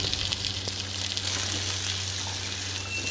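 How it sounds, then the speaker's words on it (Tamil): Small onions and green chilies fry in a pan, giving a steady, close, moderately loud sizzle that runs unbroken with no talking. "வெங்காயம் பச்சை மிளகாய் ரெண்டும் ஆட் பண்ணிக்கலாம். நல்லா வணங்கட்டும்."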